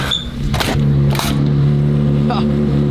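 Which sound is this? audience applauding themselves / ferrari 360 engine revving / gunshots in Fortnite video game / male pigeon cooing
ferrari 360 engine revving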